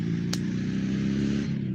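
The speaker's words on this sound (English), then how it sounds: "There's loud motorcycles." Loud motorcycles roar past near a lakeside spot at sunset, a steady, rumbling engine drone with revving that holds strong for the whole stretch, with a brief clatter near the start.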